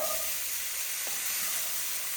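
Red beans sizzle loudly and steadily in rendered sausage fat in a pan, a dense close hiss with faint stirring underneath.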